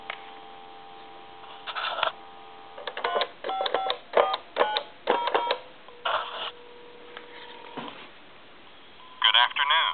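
On a German telephone converted to touch-tone, a dial tone gives way to short touch-tone beeps in quick clusters, with muffled line clicks and a faint voice from a time-and-temperature line.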